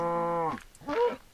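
A cow in the video game Minecraft lets out a single low, drawn-out moo, then a shorter second grunt, clear and close.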